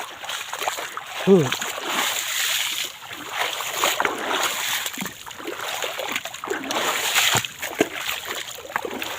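River water is splashed and churned to drive fish downstream toward a net in a shallow rural river, with repeated sloshing splashes and irregular wet impacts close by over a continuous watery background.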